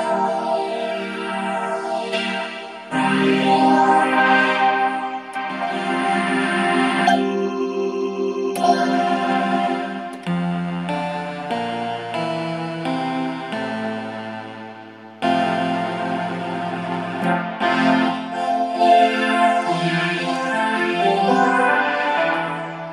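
Lush Waldorf Streichfett synthesizer string pads play sustained chords that shift every few seconds, bright and wide with a long reverberant tail.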